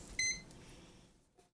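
A continuity tester beeps during a check of a shorted hairdryer cord, giving one short high electronic tone with bright harmonics, loud and close, followed by a faint second blip near the end.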